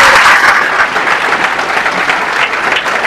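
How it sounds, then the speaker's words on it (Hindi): A crowd at a railway exam coaching institute's results event applauds loudly, with thick, continuous clapping from many people that stays strong and even from start to finish. "एक बार उनके माता पिता के लिए जोरदार ताली हो।"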